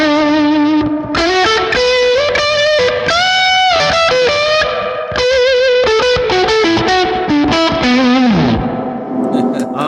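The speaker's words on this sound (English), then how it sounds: "It's an overdrive sound." An electric guitar through an overdrive pedal plays a lead line of bent and sustained notes with a gritty overdriven tone, loud and close.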